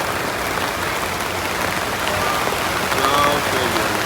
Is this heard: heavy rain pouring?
yes